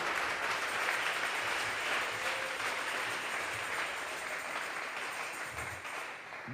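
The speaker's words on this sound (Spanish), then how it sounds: "Dele fuerte esas palmas al Señor." A church congregation claps hands during a Tuesday Bible study service, a dense, steady wash of applause that sounds somewhat distant and slightly muffled, with no speech over it.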